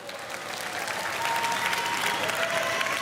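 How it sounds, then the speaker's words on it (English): A school speech event audience gives a warm round of applause to welcome a grade 8 student speaker, dense clapping that swells slightly and holds steady, with a faint tone and no talking. "Thank you for the warm applause"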